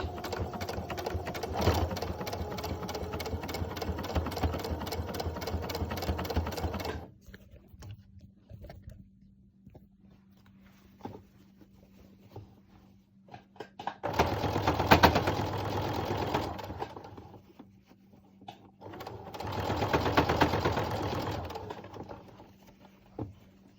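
A sewing machine stitches a fabric mask in three bursts: a long steady run, then two shorter runs after a pause. The whirring is close and fairly loud, with quiet handling sounds in the gaps.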